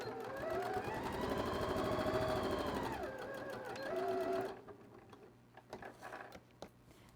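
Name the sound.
sewing machine stitching fabric scraps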